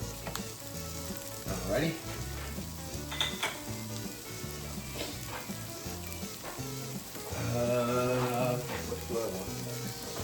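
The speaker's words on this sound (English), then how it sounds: "Let's go ahead and put the Spam on." Spam sizzles and fries steadily in a pan, with occasional clinks of a utensil against the pan and a person speaking briefly over the cooking.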